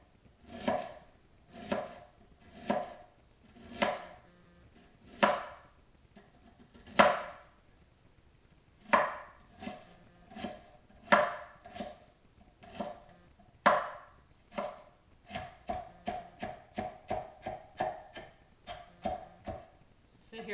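Fresh peeled ginger root being chopped with a knife on a cutting board, a long run of sharp, close knocks that start spaced out and speed into a quick rhythmic burst near the end, with no talking.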